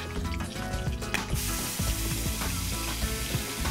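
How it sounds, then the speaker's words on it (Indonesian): Spice paste sautéing in oil left over from cooking chicken, a steady dense sizzle with occasional scraping and stirring clatter, close and loud, no voices. "Ini minyaknya mau kita pakai lagi untuk menumis bumbu."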